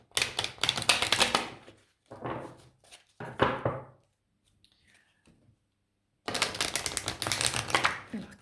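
Tarot cards being shuffled and drawn: a dense flurry of riffling card clicks and taps, a few separate card snaps, a near-silent pause, then another long burst of rapid shuffling, close and fairly loud.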